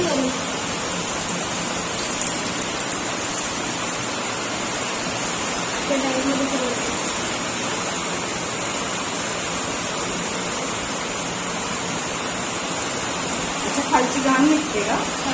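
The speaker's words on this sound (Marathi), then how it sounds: "सक्शनच्यानुसार इथे जे पाणी आहे ते काढतो आहे आम्ही" Dirty water drains from a fish tank by suction, a steady broadband rushing and gurgling flow that continues unbroken throughout, with brief voices speaking near the middle and again near the end.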